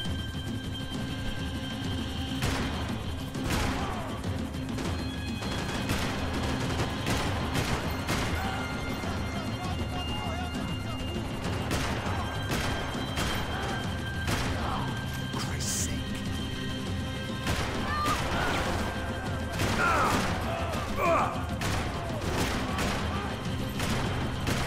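Gunfire crackles in the Max Payne 3 video game, with repeated sharp shots and bursts scattered irregularly through a noisy action scene while people shout and talk.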